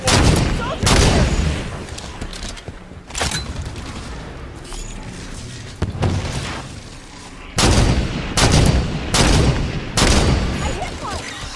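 Gunfire from the Halo 5: Guardians video game, with loud, sharp shots and booming bursts coming in irregular clusters over a steady rumble of combat, close and forceful.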